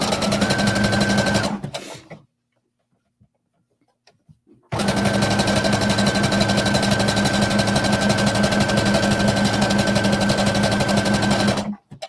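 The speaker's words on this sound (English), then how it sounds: "I'm going to sew down and around the curve, the neck curve here, up to the other 1-inch mark" Sewing machine stitching down and around the neck curve of a tunic, a steady loud whirring hum that runs, stops for about two seconds of near silence, then resumes for a long continuous stretch before stopping.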